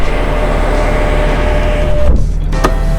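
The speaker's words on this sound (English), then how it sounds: "I can just put my window up." A Bentley Flying Spur power window whirs up against loud road and cabin noise, the rising motor hum ending with a quick soft thump as the glass seals and the outside noise drops.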